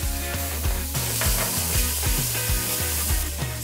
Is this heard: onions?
yes